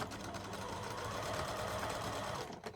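A sewing machine stitches a patchwork stocking seam, running in a fast, steady mechanical whir close by before slowing and stopping at the end.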